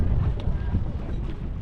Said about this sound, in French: Bonne petite brise là, hein. Un vent de nord-est.